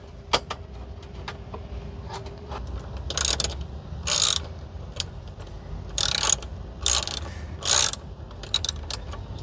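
Ratchet wrench tightening fairing bolts on a Kawasaki Versys 650 motorcycle, several sharp bursts of fast clicking separated by quieter handling noises, close to the microphone.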